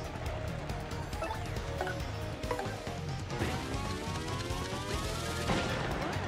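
Rapid, continuous booming cannon fire and explosive blasts in Paper Mario: The Thousand-Year Door fill the whole stretch, dense and loud with no pauses, like heavy cannon fire in a battle.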